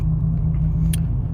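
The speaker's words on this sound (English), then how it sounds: "I'm going to throw in the clip of the cold start I did this morning" A truck with a Magnaflow 14419 exhaust idles on a cold start, giving a loud, deep, steady rumble with a strong low drone and a brief higher click partway through.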